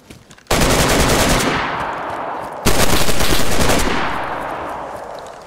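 Sniper rifle fire in the DayZ video game, with two loud, sharp shots a couple of seconds apart, each trailing off in a long echoing decay across open ground.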